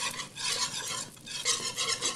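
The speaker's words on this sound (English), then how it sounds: "Start whisking." A whisk working a thickening mixture in a pan on the stove, with fast steady scraping and swishing strokes against the metal, close and continuous, no voices.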